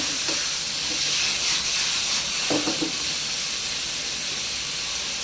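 Loud, steady sizzling hiss of pork skin stir-frying in a hot wok, with a few clattering scrapes of a utensil against metal.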